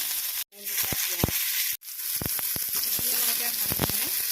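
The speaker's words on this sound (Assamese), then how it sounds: "সেইটোত অলপ তেল দিলোঁ, কেইটামান পাঁচফোৰণ দিলোঁ, কেইটামান শুকান জলকীয়া, কেইটামান তেজপাত" Panch phoron, dried chillies and bay leaves hit hot oil with a crackling sizzle broken by two brief dropouts, sharp pops and spatters standing out close to the pan.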